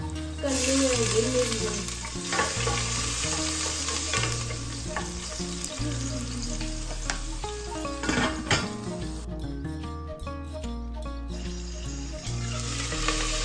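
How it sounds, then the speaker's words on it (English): Roughly chopped garlic, ginger and green chilies sauté in hot vegetable oil in a pot, giving a steady, close frying sizzle with occasional stirring, partly under continuous background music. "heat some vegetable oil and saute garlic, ginger and green chilies, all roughly chopped"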